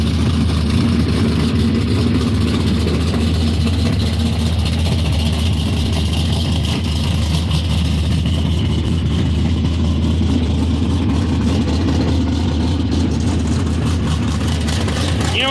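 A Chevrolet engine in a super truck at Vado Speedway idles steadily with a deep, constant rumble, loud and close, with no clear speech over it.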